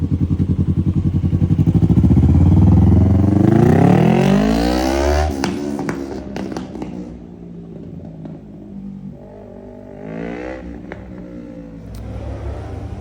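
A sport motorcycle, likely a 2020 Yamaha R3, revs loudly nearby, then pulls off and fades as it rides away, its engine note dropping to a distant drone with some later rises.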